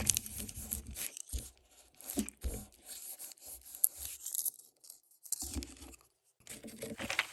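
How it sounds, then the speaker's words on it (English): Intermittent crackly tearing and scratching as a protective backing is peeled off an acrylic blank in short pulls, with brief quiet pauses between, close and moderately loud. "So now I'm just moving the protective backing off of the acrylic blank."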